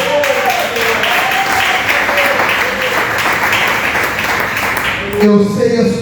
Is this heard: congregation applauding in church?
yes